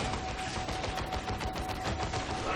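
Suppressive gunfire rattles without pause in the strategy game Dawn of War 2 Retribution, dense overlapping bursts of rapid shots filling the whole stretch at a steady, loud level.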